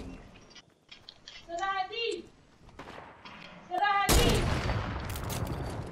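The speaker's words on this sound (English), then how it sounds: "someone sniped me" A loud gunshot burst in the online shooter One Shot hits about two-thirds through, followed by sustained noisy blasts, after excited kids' voices talk over quieter game sounds.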